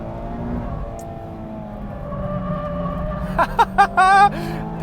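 A 2022 Mazda MX-5 pulls hard on a race track, its engine note climbing steadily in pitch under a broad road rumble, then breaking into a few short, sharp bursts near the end.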